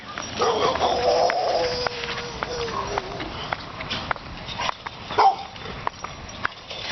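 A dog barks a few times at a middle distance, with scattered clicks and footsteps around it and a person talking.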